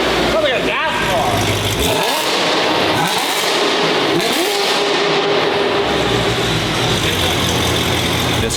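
A $250k Mercedes fitted with a new exhaust idles and revs up close in several loud, rumbling bursts, while people talk over the engine.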